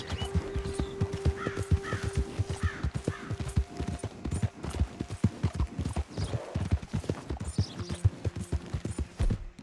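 Horse hooves clip-clop in a steady walking rhythm in the Red Dead Redemption 2 video game, close and distinct, with faint game ambience and a brief whinny-like cue underneath.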